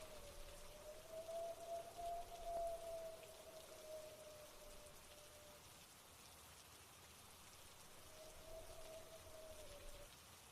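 Rain falls steadily, a soft even patter that stays faint throughout, with a thin tonal hum drifting in and out beneath it.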